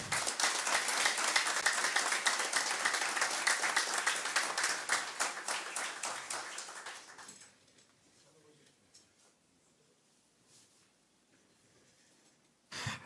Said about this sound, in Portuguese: eu queria pedir uma salva de palmas para os zeladores